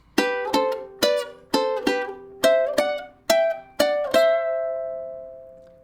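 A ukulele plucks a simple melody of about nine bright notes in a steady rhythm, the last note ringing out and fading.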